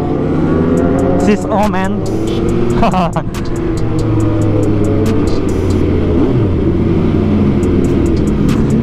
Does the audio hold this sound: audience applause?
no